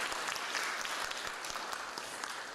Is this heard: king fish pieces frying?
no